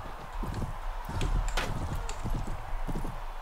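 Horse hooves clip-clop steadily at close range while riding in the Mount & Blade Prophesy of Pendor game, a continuous trotting rhythm over a busy background of ambient game noise.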